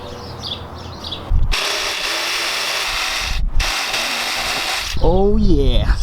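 A power tool cuts through the plastic bumper of a Lexus GX470, loud and close. A harsh, steady grinding whine runs for about two seconds, breaks off briefly, then resumes, changing pitch toward the end.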